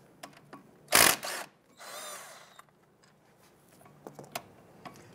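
A power tool, likely an impact wrench, gives a short loud burst and then a longer whirring run while removing the 18mm caliper bracket bolts on a 1999-2004 Jeep Grand Cherokee, with faint clicks and handling noises around it.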